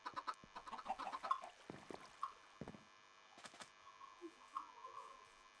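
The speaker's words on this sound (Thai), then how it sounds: "เนี่ยไก่มันชอบออกมา" Chickens cluck in the Minecraft video game, with short bursts of clucks scattered through the first half and a few more later, mixed with small clicking game effects and no voices.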